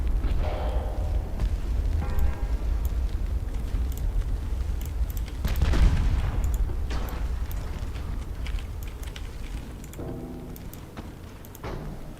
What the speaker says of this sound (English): Ooh, torpedo detonation. The enemy torpedo.